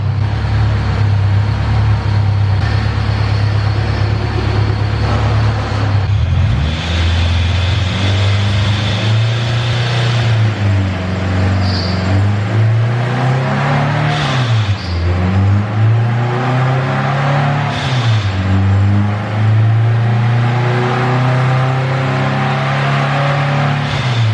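A turbocharged K24-powered all-wheel-drive Honda Civic runs on a dyno, its engine droning loud and close as revs climb, dip and rise again in repeated sweeps with turbo whine over a constant heavy hum.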